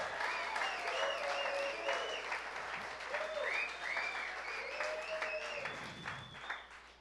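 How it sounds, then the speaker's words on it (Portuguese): Congregation applause at a church service, broad and sustained for about seven seconds, with scattered shouts and cheering voices rising above the clapping. "Dê um aplauso a Jesus,"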